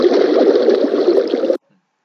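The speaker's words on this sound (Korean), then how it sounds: "바위에 부딪히는 이 파도라는 소리가 있습니다" A brief sound effect of sea waves crashing against rocks gives a loud, dense wash of water that runs evenly for about a second and a half, then cuts off abruptly into silence.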